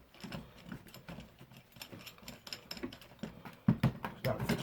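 A socket being turned with a bar on a Land Rover Freelander 2 rear suspension, giving rapid ratcheting clicks and metallic rattles close by, with a few faint voices in the background.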